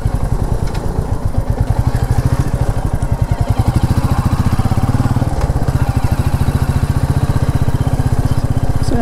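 Royal Enfield Meteor 350 motorcycle riding off-road down narrow lanes, a loud close single-cylinder thump with rapid regular pulses and some clatter, steady throughout.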